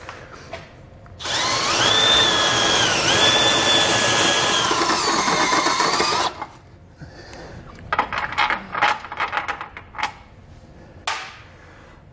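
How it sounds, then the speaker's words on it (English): A power drill with a step bit whines loudly and steadily for about five seconds, drilling a hole for a trailer hitch on a 2015 Lincoln MKX, then cuts off, followed by scattered clicks and clattering. "To finish out my hole, what I'm doing is I'm going to use a step bit."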